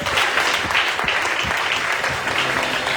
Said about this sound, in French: je voudrais que tu acclames pour toi-même ce soir